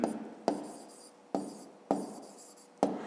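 Pen or chalk writing a math expression in a fifth-grade lesson, five sharp taps each followed by a short scratching stroke, close and quiet with no talking.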